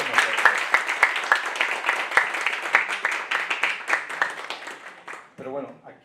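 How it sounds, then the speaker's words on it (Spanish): An audience applauds loudly with dense, steady clapping for several seconds, tapering off as a voice begins speaking at the end. "yo quería un fuerte aplauso"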